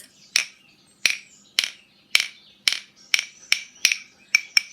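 Claves struck together in a series of about eleven crisp wooden clicks, evenly spaced at first and then quickening, mimicking branches knocking together; dry, close and isolated against near silence.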